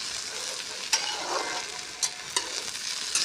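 Okra fries in a small amount of oil, a gentle, fairly quiet hiss with a handful of distinct spatula clicks against the pan.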